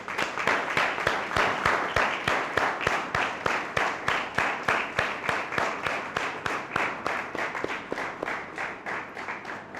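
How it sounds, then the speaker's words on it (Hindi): A church congregation claps loudly in praise of Jesus Christ, a steady run of rapid, crowded handclaps that carries on evenly for the whole stretch with no voices over it. "अब हम खुदा के बेटे यसु मसीह के लिए ज़ोरदार तालियां बजाएंगे।"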